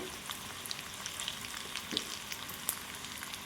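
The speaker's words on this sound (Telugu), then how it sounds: "ఆయిల్ వేడైన తర్వాత జీలకర్ర, ఆవాలు, వెల్లుల్లిపాయ వేసుకోవాలండి" Cumin, mustard seeds and garlic sizzling steadily in hot oil for a Telugu dal with ridge gourd, with a dense crackle and scattered sharper pops from the seeds, close and moderately loud, and no talk.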